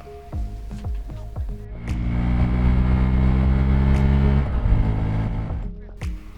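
A Hero XPulse 200 motorcycle engine revs up in fifth gear to a sustained, steady high drone, with a dip and recovery near the end; loud and close throughout.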